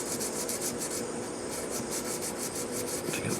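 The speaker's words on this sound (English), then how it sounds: "to get the pressure on the sandpaper where I want it" Sandpaper rubbed back and forth over the frets of a Stratocaster guitar, giving a steady rhythmic scratchy rasp with quick repeated strokes, close and continuous, with no talking.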